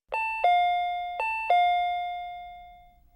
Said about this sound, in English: Suddenly, the doorbell rang.